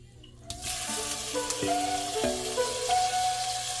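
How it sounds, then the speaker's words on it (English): Hot Italian sausage sizzles in avocado oil in a pot, a steady close frying hiss starting abruptly, with scraping spoon or masher strokes against the pot. "now it's time to add the hot Italian sausage"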